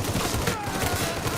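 Gunfire in the video game Mafia 3 comes as a dense, loud, rapid volley of shots with thumping low impacts, filling the brief stretch with no pause.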